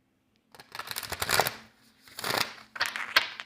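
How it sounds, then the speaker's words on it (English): Tarot cards shuffled by hand in three close, crisp bursts of riffling and flapping, separated by brief pauses, with no voices. "it hurts when I'm shuffling the cards."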